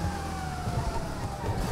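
Police car siren in GTA 5, a steady electronic wail running continuously through the short stretch alongside engine and traffic rumble from the game.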